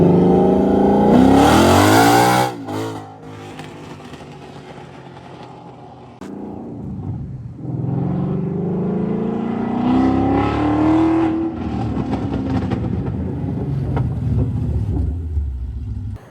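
A Gen 3 Coyote V8 in an S197 Ford Mustang roars and revs hard up close, then drops to a throaty idle before climbing again through several accelerating surges.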